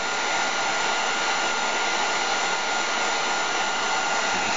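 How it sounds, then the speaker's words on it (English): A heat gun blows steadily as it gently warms the plastic of an N gauge model railway bridge, a constant close, loud airy whoosh with no variation and no talking. "Right, hit your heat gun. And gently warm it up."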